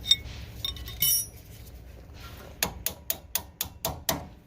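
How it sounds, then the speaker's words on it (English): Repeated metal-on-metal strikes knock a bolt out of the axle T bracket on a 1992–1995 Honda Civic, about eight sharp, evenly spaced clanks close to the mic after some quieter handling clinks. "Now you just got to push this bolt out that way. You can just hit it with something."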